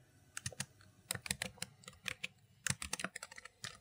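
Quick, light keystrokes on a computer keyboard while a node is renamed in compositing software, irregular close clicks in short flurries over nearly four seconds, quiet and with no talk.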